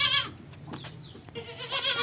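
Goats bleating on a Pakistani farm, loud and near, with repeated wavering calls at the start and again at the end of a short stretch with no talk.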